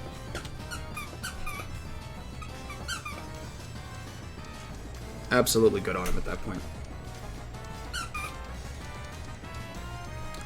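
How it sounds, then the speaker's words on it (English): A dog squeaks a squeaky stuffed squirrel toy in the background while someone talks over a Pokémon battle, the squeaks brief and faint except for one louder burst midway. "She's squeaking her squeaky toy."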